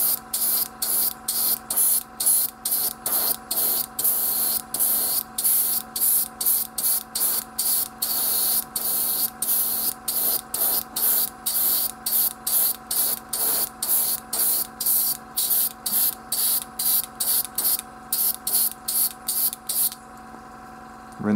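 An airbrush spraying paint onto model ruin terrain pieces in short repeated bursts, each a sharp close hiss separated by brief gaps, over a low motor hum, with no talking.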